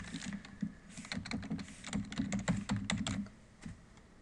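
A password typed on a computer keyboard: a quick, close run of soft key clicks lasting a few seconds at low volume, alone without talk.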